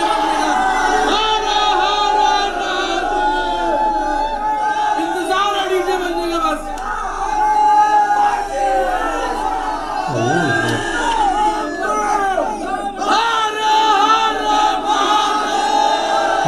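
A huge crowd packs an open ground at Masan Holi in Varanasi, a dense continuous roar of shouting, cheering and chatter, loud and close throughout.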